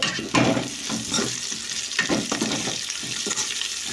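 A tempering of curry leaves fries for a cowpea curry, giving a close, busy sizzle with crackling pops and stirring scrapes that stays fairly even throughout, with no talk.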